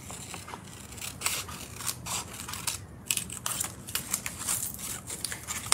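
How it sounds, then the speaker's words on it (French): Scissors snip through paper, cutting out foliage shapes from a drawing for a mixed-media art project, giving a steady run of crisp close cuts and crunches with no talk. "venir tout simplement avec des ciseaux découper les"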